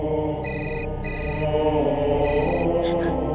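A mobile phone ringtone plays in repeated electronic beeping bursts over steady background music, fairly loud and close.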